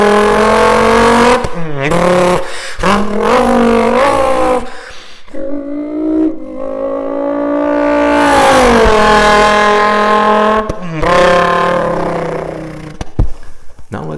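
A human voice imitates a stock Dodge Viper GTS engine, mouthing revs that rise and fall in several bursts, then one long climbing pull and a final short blip, loud and close.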